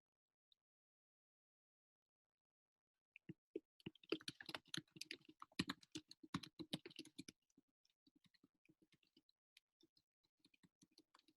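Computer keyboard typing in a quiet room, a quick burst of close clicking keystrokes that thins out into sparse, scattered taps.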